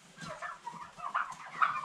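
Turkeys of the Hybrid Converter and BIG-6 breeds in a farm enclosure, giving a series of soft clucks and chirpy calls that rise and fall, fairly close, with no talk.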